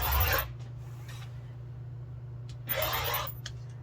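Quilt fabric for a hearts table runner is trimmed along a ruler with a rotary cutter, giving two brief rasping cuts, one at the start and one near the end, over a quiet low hum.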